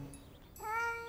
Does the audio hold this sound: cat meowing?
yes